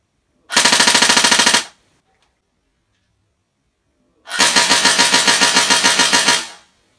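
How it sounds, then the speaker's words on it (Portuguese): Two loud, close bursts of full-auto fire from an airsoft JG FAL 7.62 rifle: a short rattling string of about a second, a pause of silence, then a longer burst of roughly two seconds, each shot crisp and rapid. "Agora vamos virar aquela alavanca para o full alto. Está no full alto. E agora vamos ver o full alto dela."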